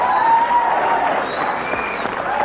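A game show studio audience claps in a steady, broad wash of applause that holds for a couple of seconds, with a faint voice mixed in.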